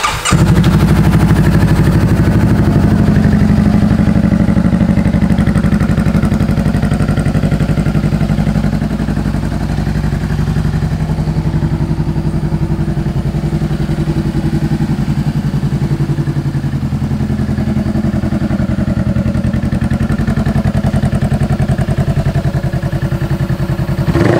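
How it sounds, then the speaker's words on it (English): A motorcycle engine cranks and fires up with the bike in neutral, then settles into a steady, loud, close idle that runs continuously for the whole stretch with no talking. "This bike is in neutral. Let's fire it up."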